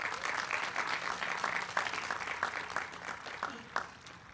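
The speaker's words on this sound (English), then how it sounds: "Let's give him a round of applause." Commencement audience in a hall at a law school ceremony applauds an honored donor, a moderate steady patter of many hands clapping with a few sharper claps standing out, fairly distant and without talk.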